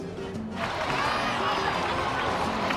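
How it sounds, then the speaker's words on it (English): A large crowd bursts into loud, sustained applause and cheering for a brave young warrior after she finally makes it, a dense roar of claps and shouts building from a brief quieter start and holding steady throughout. "Let's give a huge round of applause to our brave young warrior, Kachina!"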